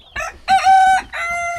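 A backyard rooster crows loudly and close, a clear ringing call of a few rising and held notes, with faint hen clucks around it.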